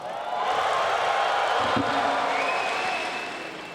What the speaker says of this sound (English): If you're behind Fuguan Liao, cheer for me now!